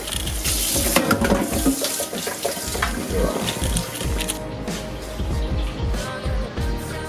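Tap water runs into a bottle being filled, a close, steady splashing stream with some clatter, then a quieter flow near the end.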